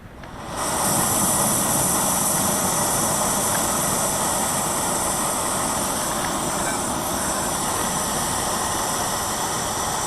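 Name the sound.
backpacking stove burning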